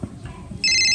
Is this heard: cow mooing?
no